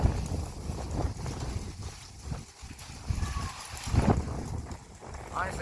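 Gusty wind buffets an outdoor camera microphone in low rumbling surges, swelling loudest near the end, with faint indistinct voices underneath.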